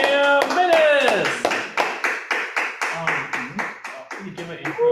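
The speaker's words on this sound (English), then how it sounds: "Let's bring him on with a loud round of applause." At a Toastmasters meeting, a brief voice gives way to quick, evenly paced hand claps in a steady rhythm, fairly close, with another voice coming in near the end.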